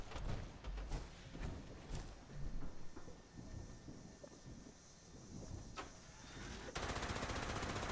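Bursts of gunfire in Fallout 76, sharp shots cracking out at irregular intervals over a busy game soundscape, ending in a dense, steady wash of noise.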